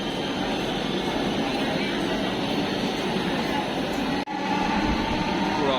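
A low, steady rumble of a metro train fills Kazipara metro rail platform in Dhaka, with a brief dip near the end before the hum resumes; faint crowd noise underneath.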